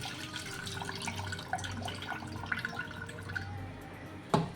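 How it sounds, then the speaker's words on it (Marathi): Water trickles and drips as it drains from a homemade butter ball in a kitchen, a soft continuous splashing with a sharper drop near the end. "मी असं यातलं पाणी काढून घेणार आहे"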